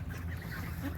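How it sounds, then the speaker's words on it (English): Ducks on a poultry farm give a brief burst of nasal honking quacks, close and fairly soft, over a low background rumble with no speech. "And there's the ducks."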